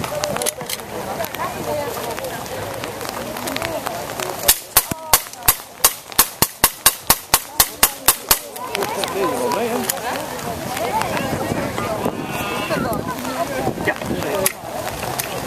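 Demonstration firing of an M1 carbine chambered in .30 M1 at a Liberation Day event in Wageningen, a rapid string of about a dozen sharp outdoor shots in quick succession, with people talking before and after the volley.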